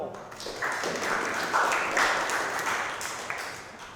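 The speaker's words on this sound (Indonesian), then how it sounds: "Oke, tepuk tangan dulu teman kamu." A classroom of vocational students applauds a classmate during a manual transmission diagnosis lesson, with a few seconds of dense, fairly close clapping that swells and then tapers, and faint voices underneath.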